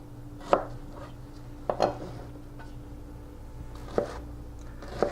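A sharp kitchen knife chops down onto a cutting board four times at uneven intervals, each stroke a crisp close thud over a steady low hum, while black beans are being prepared.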